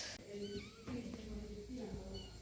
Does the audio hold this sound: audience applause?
no